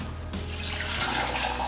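Cold tap water runs steadily into a pan of cleaned potatoes, a close, continuous splashing gush that grows slightly brighter as the pan fills.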